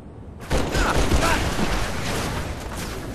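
Turret fire in a Halo game bursts in abruptly after a brief quiet moment, then a loud, dense, continuous rattle of heavy shots carries on with some chatter or shouting mixed underneath.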